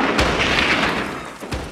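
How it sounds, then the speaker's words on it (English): A single rifle gunshot rings out over dark silence in a film scene, a sharp, loud report with a booming tail, followed shortly by a second fainter thump. "And then you hear that gunshot in the black."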